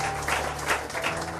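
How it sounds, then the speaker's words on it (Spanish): A brief burst of applause from a church congregation, dense and steady clapping heard on its own. "Denle un aplauso pues al Señor"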